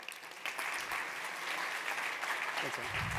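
An audience at a design talk applauds the Figma designer advocate Thomas Lowry, a fairly quiet, even wash of clapping that swells after a brief moment and continues steadily to the end.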